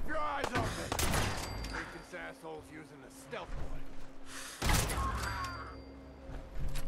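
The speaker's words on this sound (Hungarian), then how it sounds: "Te pattog le rólam a lövés." Gunfire from the video game Fallout 4: two sharp, loud bursts of shots ring out several seconds apart, with rattling impacts and mechanical clatter between them.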